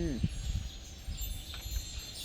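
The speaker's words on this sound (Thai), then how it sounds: "ลมพัดเย็นเย็นจ้า" Cool evening breeze buffeting an outdoor microphone beside a fish pond, a steady low rumbling gust noise with a few soft bumps running throughout.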